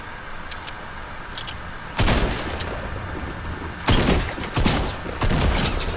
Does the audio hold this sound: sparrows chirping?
no